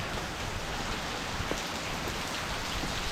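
Steady rain pours down from Tropical Storm Noru in southern Laos, a dense, even hiss of drops striking a surface, continuous and fairly loud throughout.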